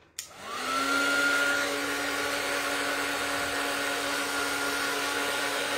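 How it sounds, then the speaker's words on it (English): A heat tool blows steadily to dry an art journal page, starting with a brief click and then holding a loud, even whirring drone with a faint high whine, running alone with no talk. "use the heat tool to dry this"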